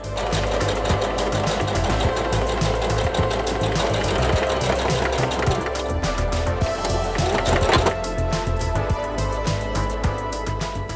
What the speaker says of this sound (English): Now I'm gonna put these back together and sew along the edge.